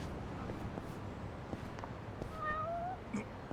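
A cat meows once, a drawn-out call near the end, in Yakuza: Like a Dragon, over a street backdrop with footsteps and small clicks.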